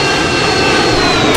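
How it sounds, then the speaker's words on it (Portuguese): Airplane engine roaring at an airport in the Roblox game Mad City, a steady loud broadband drone with a faint high whine, continuous throughout with no speech. "Olha lá o avião, ali é o avião."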